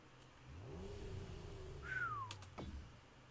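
A car engine in the racing video game Grid revs briefly, rising and falling in pitch over a quiet background, joined by a short whistle-like tone sweeping downward and a couple of faint clicks.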